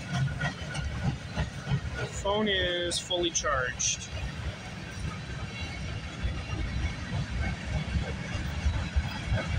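A CPKC freight train rumbles past at Guelph Junction in Campbellville, with steady low-frequency roar and rattling as its rear DPU locomotive goes by, a brief screech or horn-like tone midway, while a person talks over it.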